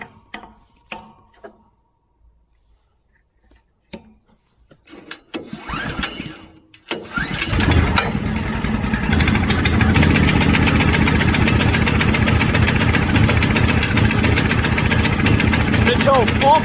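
A wood chipper's small engine is cranked with the choke on, a few short pulls and sputters before catching around seven seconds and settling into a loud, steady idle.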